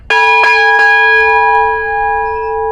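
A silver-alloy ship's bell aboard the cruiser Mikhail Kutuzov is struck in quick succession, loud and close, then rings on with a long, bright, sustained tone.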